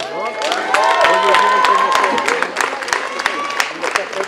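Concert crowd at the Rhino club clapping and cheering, dense loud applause with whoops and shouted voices rising and falling over a few seconds.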